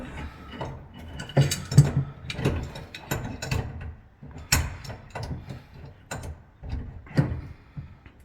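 Crescent wrench working a garbage disposal fitting, irregular metallic clicks and ratcheting scrapes close by, rising and falling in uneven bursts with no speech.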